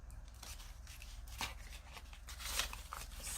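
Cash bills are counted by hand close up, with soft papery flicks and rustles arriving one after another at an uneven pace, fairly quiet.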